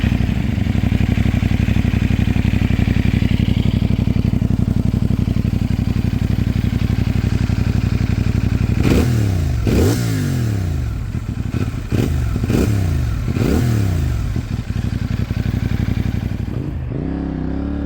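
A CFMoto 450NK motorcycle engine, loud and close throughout, holds a steady drone before climbing through several rising revs and gear changes in the second half, then drops away at the end.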